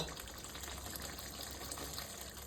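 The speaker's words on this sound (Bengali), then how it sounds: "এখানে সর্ষে আছে তো, এর মধ্যে আমি এবার জল দিয়ে দেবো" Water poured into mustard masala in a pan while cooking shol fish curry with mango kasundi gives a steady, soft gushing hiss that runs unbroken and fairly quiet throughout.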